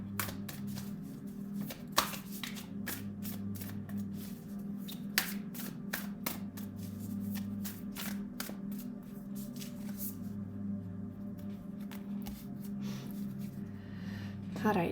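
Tarot cards are shuffled by hand in a run of quick, crisp riffles and taps, close by, over a steady low hum.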